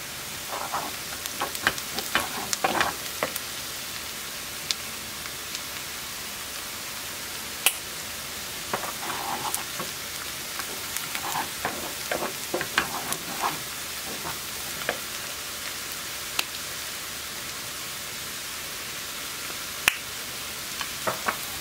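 Onions sautéing in a pan until caramelized, a steady close sizzle broken by scattered crackles and small pops that keep up throughout, with no one talking.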